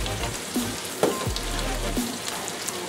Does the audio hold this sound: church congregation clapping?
no